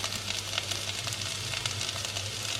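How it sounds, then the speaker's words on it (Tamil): Chopped onions and curry leaves sizzling in hot oil in a pressure cooker while making mutton chops masala, a steady close frying hiss with a low hum underneath and no voices. "நம்ம ஆனியனும் கருவேப்பிலை கட் பண்ணி வச்சுருக்கோம், அதை ஆட் பண்ணிக்கோங்க"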